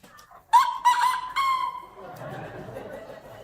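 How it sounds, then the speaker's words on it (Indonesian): A rooster gives one short, clear crow of a few segments over faint background murmur, with a quieter tail fading into noise. "Suara ayam jantan itu singkat."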